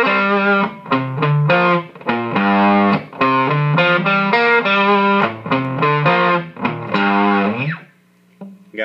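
A distorted electric guitar plays a riff in loud, choppy phrases with short gaps between them, ending on a sustained note that fades away, with no talking.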